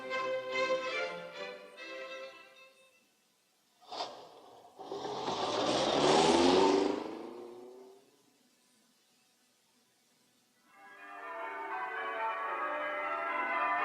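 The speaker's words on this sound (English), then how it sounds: "He could hear church bells." Church bells ring out on Christmas Eve in a lane in the countryside: rich, ringing peals with long decays, a sharp strike and a swelling burst midway, then a steady resonant tolling to the end.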